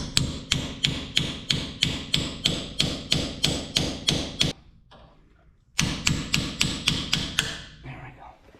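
A hammer knocks a seal into the rear axle of a 1965 Dodge Coronet 500, striking in a fast, steady run of sharp metallic taps, pausing briefly, then resuming with another quick series before stopping.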